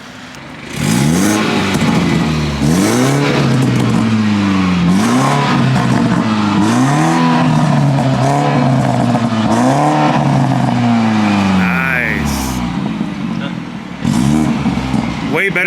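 A BMW F30 330i fitted with an aftermarket downpipe exhaust revs repeatedly, deep rising and falling engine pulls close and loud, with people talking over it.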